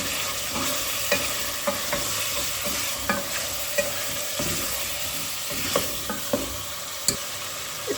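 Chicken pieces for a quick chicken karahi fry in a pan with a steady close sizzle. Intermittent spatula scrapes and taps sound every second or so.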